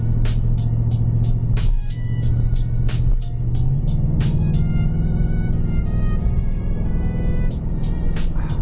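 A 2026 Ford Mustang GT with a 10-speed transmission drives through turns, its engine humming and rumbling steadily, rising and shifting, with sharp clicking ticks recurring over the road noise.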